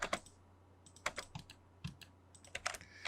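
Computer keyboard typed while entering an AutoCAD command, a quiet, close sequence of sharp, irregular key clicks in small bursts with short pauses between, no talking.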